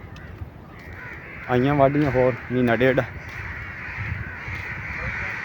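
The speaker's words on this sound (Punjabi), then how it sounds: "ਉਧਰ ਕਾਂ ਦੇਖੋ ਜੀ, ਦੇਖੋ ਕਾਵਾਂ ਦਾ ਸ਼ੋਰ ਕਿਵੇਂ, ਕਾਂ ਸ਼ੋਰ ਕਰਨ ਡੇ।" Several crows caw loudly in two close, harsh bursts near a rural field, while someone talks over a steady outdoor background.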